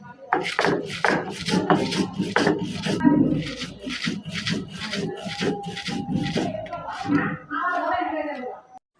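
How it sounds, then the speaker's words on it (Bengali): Green chilies and salt being ground by hand into a paste for chili bharta, a steady rhythmic rubbing and rasping that repeats close up throughout, with a voice talking over much of it. "এখন আমি সুন্দরভাবে মিহি করে বেটে নিব"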